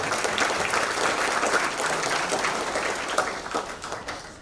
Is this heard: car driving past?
no